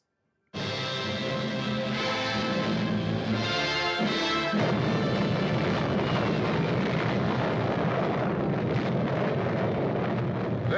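A nuclear bomb explosion in archival footage erupts suddenly into a loud, sustained roaring rumble that churns on for about ten seconds with no break.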